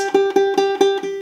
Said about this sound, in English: so if first string should sound like this